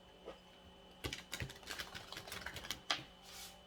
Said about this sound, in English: So, one last shuffle.